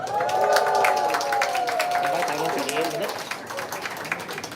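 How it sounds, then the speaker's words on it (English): Audience applause at a Southeast Asia buildathon conference, a dense burst of clapping from a crowd that stays loud and then slowly thins, with a voice speaking over it. "So big round of applause."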